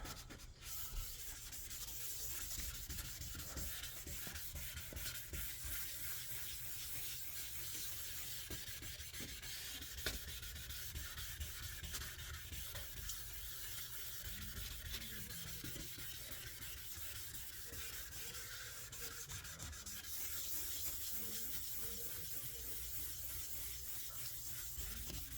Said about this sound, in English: the sandpaper is scratching the clear coat